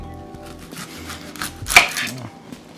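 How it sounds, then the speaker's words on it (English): An onion is sliced with a kitchen knife while cooking a baked dish of eggplant, potatoes and jalapeño, giving a few soft, close cuts with one sharper chop against the board. "let me slice the onion in there as well"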